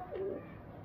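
A single soft, low coo from a Salara Golden breeder pigeon near the start, followed by quiet background hum.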